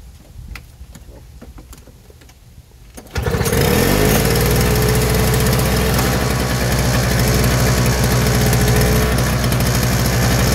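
A Lawnboy 720E two-stroke snow thrower engine cranks and catches, then roars loud and steady up close at a high buzzing idle after a few seconds of quieter rustling.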